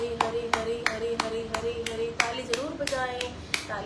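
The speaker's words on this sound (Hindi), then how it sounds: "ताली ज़रूर बजाएं।" Group clapping during a yoga session, sharp unison claps in a steady beat about every third of a second, mixed with chanting and voices underneath.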